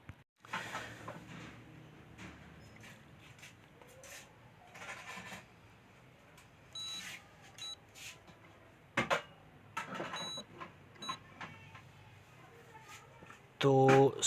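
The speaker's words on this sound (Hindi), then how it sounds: "अब ज़रा स्पॉट वेल्डिंग भी इसकी देख लेते हैं।" A BIFRC DH-20 spot welder fusing 0.10 mm nickel strip onto lithium-ion cells, giving a scattering of sharp snapping pulses over a low background hum, with a loud burst near the end.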